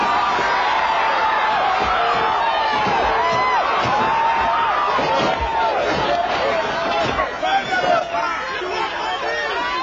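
A large crowd of rioting protesters gathers at Parker Center, making a dense, continuous roar of overlapping shouts and chatter with occasional sharper yells and bangs, loud and steady throughout.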